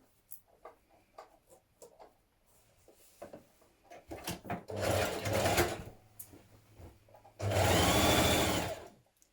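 A sewing machine stitches a hoodie's side and underarm seam in one continuous pass, running in two loud, steady bursts after a stretch of light fabric handling and small knocks.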